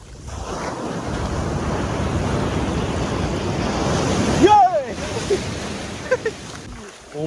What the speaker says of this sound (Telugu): చాలా డేంజర్ వస్తున్నాయి అలా చూడండి, ఎంత పెద్దగా ఉందో వేవ్.